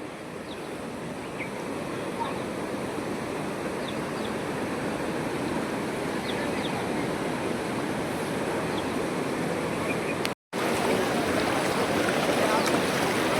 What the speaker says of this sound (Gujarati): દાતરડી રાફડા વાળી નદી જુઓ. ત્યારે પુલ ઉપરથી પાણી જાય છે